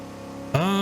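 A Chevrolet Impala replica muscle car in Assetto Corsa idles steadily, then its engine suddenly revs up hard with a rising, loud roar near the end.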